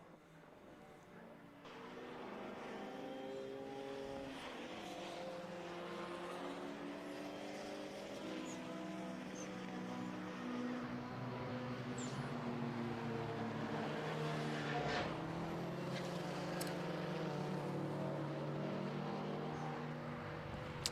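A racing car laps the Knockhill circuit in a Time Attack and Racing Hondas championship, its engine a steady, loud droning roar with shifting pitch that holds throughout after a quieter opening.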